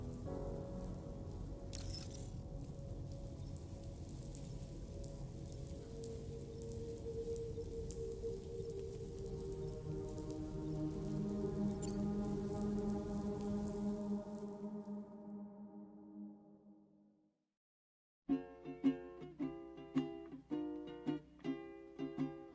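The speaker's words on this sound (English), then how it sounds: "Raindrops are falling on my head" Steady rain falling in the video game Death Stranding 2, a dense continuous patter under tonal music, fading out near the end before a brief silence and a few sharp musical notes.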